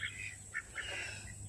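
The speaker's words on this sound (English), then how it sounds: "My birds are so mean to each other." Domestic ducks squabble in a short run of nasal quacks, a few close, moderately loud calls over steady background hum.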